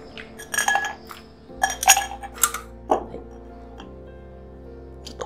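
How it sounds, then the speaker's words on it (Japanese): Ice cubes clink and rattle as they drop into a glass for a Suntory Hakushu smoky highball, several sharp glassy knocks in quick bursts, fairly close, with no talk. "グラスに氷を入れます"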